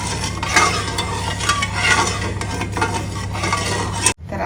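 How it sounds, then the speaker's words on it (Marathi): A spoon stirs sugar into a sizzling dhokla tempering in a pan, with continuous frying hiss, scraping strokes and light metallic clinks over a low hum, ending with an abrupt cut. "आणि साखर आपल्याला आता पूर्णपणे मिक्स करायची आहे"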